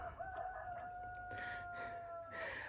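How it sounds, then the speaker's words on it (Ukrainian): Roosters crow in the distance in the town of Bar, long drawn-out calls overlapping faintly against a quiet outdoor background. "Напевно, вам чути, як півні стараюся."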